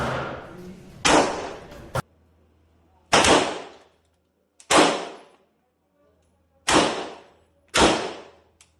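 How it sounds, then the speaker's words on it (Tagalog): Handgun shots at a shooting range firing light, low-recoil rounds: five sharp, loud cracks spaced a second or more apart, each with a brief decay into near silence. "My experience shooting and holding a gun was kind of easy since the bullets I had was light and didn't have that much recoil"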